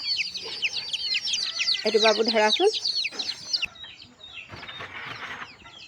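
Young chicks kept in a covered enclosure chirp in rapid high peeps, with a few clucks from a hen, close by while someone speaks briefly.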